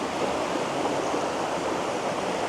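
A river flows in steady, loud, broadband rushing water with no letup, heard outdoors and close by, with no voices.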